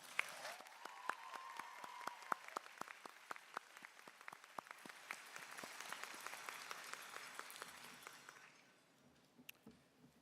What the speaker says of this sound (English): please join me in giving Dean Eddington a warm round of applause